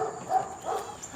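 Dogs bark in the background, both the household's own and a neighbor's, heard as a few faint, distant woofs in a quiet room with no speech over them.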